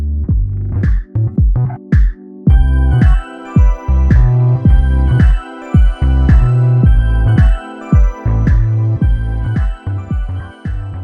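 A produced remake of a song plays: punchy plucked notes and deep bass hits in a steady rhythm, loud and upfront with no talking.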